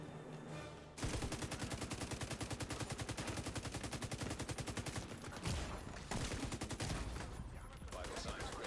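Light machine gun fire from an enemy in The Division 2 rattles in long, rapid, continuous bursts after a quiet opening second, loud and dense with only brief gaps.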